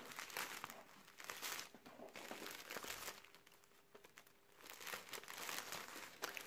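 Faint, close plastic bag crinkling rustles on and off in soft bursts, quiet and without talk.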